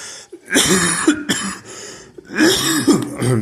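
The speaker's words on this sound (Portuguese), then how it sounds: "eu tô tossindo muito" Several harsh coughs and throat-clearing bursts in two clusters, close and loud, with a short quiet gap between them.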